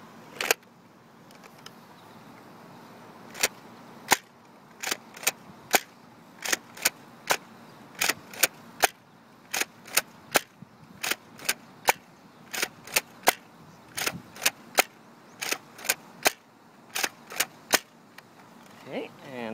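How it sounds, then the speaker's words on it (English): Ten foam Nerf Elite darts fired from a toy blaster, each shot a sharp snapping pop spaced irregularly over about twenty seconds, close and clear against a quiet room with no talking. "there's our 10 Elite darts fired off"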